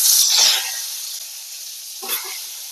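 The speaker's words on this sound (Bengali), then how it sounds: "এবারে নুন হলুদ মাখানো পটলগুলো এক এক করে ভেজে নেব।" Pieces of pointed gourd coated in salt and turmeric go into hot white oil in a kadai, giving two loud, sharp bursts of sizzling that each flare up and then fade to a softer hiss.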